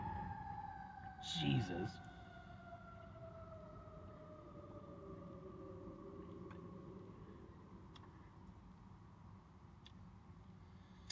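Emergency vehicle sirens pass by on a street in a rough part of town, their wailing tones sliding downward as they recede, heard at moderate distance beneath a brief spoken exclamation.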